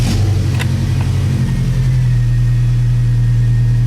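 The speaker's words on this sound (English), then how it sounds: "I'm going to fire it up." An S10 pickup fitted with an Ecotec engine cranks briefly, catches, and settles into a loud, steady idle hum close by.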